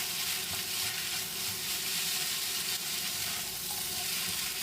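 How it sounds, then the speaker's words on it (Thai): Glass noodles and vegetables stir-fry in a hot pan, a continuous loud sizzle with faint scraping of the spatula throughout, no voices. "ขั้นตอนนี้เราก็จะผัดผักให้สลดก่อนนะครับ"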